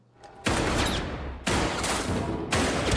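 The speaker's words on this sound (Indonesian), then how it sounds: "tiba-tiba si gadis sekolah pun ternyata masih hidup dan menembak Choi dengan senjata Okeju yang terjatuh di depannya" Gunfire in a shootout from the 2023 film Ballerina: three loud, heavy bursts about a second apart, each with a long, roaring tail that fills the scene, no voices.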